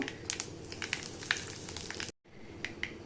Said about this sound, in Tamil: அதே எண்ணெயில் கடுகு வெந்தயம் ஜீரகம் பெருங்காயம்